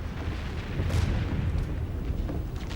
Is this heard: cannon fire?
yes